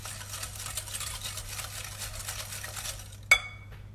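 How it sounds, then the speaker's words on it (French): Sugar and eggs whisked together in a bowl for a shortbread-style tea cake, a quick continuous rhythmic swishing up close, ending with a single sharp clink of the utensil against the bowl. "Je vais mélanger le sucre et les œufs."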